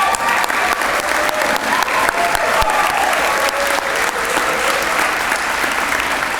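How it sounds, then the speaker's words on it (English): Dense, steady applause from a large audience at the 2022 Belmont Entrepreneur Awards ceremony, sustained for the full stretch with no one speaking over it. "we can give you one more round of applause"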